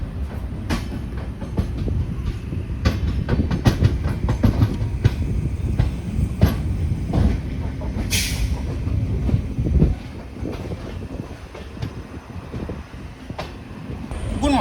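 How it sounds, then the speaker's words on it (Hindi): Amrit Bharat Express train running on the rails after departing Ayodhya, heard from on board: continuous loud rumble with rhythmic clickety-clack wheel beats, brief squeals, and a quieter stretch near the end. "जैसे नींद खुली वैसे ही अयोध्या से ट्रेन डिपार्ट कर रही थी"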